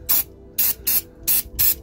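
Brake cleaner sprayed onto the oily sump of a Mk6 Ford Fiesta 1.4 during a service, five short sharp aerosol bursts in quick succession, loud and close, with no talking.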